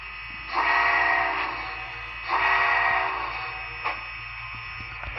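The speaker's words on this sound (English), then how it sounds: "I have a another kind of modern day fantasy heritage locomotive that I can run now" A rebuilt Rio Grande Challenger model locomotive sounds two long horn blasts and then a short toot, all fairly quiet against a faint steady running hum, with no talking.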